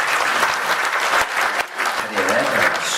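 Applause from the congregation at a church elder and deaconess ordination thanksgiving service, dense steady clapping through the whole stretch with a brief dip midway, a voice faintly heard under it.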